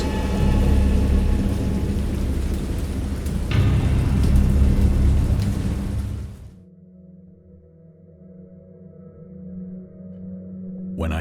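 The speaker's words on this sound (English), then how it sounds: "I heard pearls of thunder and other tones which nature utters only in her wildest moods" A thunderstorm with heavy, steady rain hisses loudly for several seconds, then drops away to a low, distant rolling rumble of thunder.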